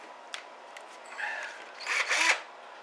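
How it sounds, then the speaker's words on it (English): A small drill with a 15/16 bit bores out the center of a brass shotgun shell held by hand, giving a faint, brief whirring grind that rises twice in short bursts over a quiet background. "Just drill out the center of that"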